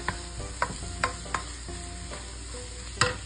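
Butter, garlic, meat and eggs frying for fried rice, a steady sizzle broken by several sharp clanks of a utensil scraping and stirring the pan at irregular intervals, close and fairly loud.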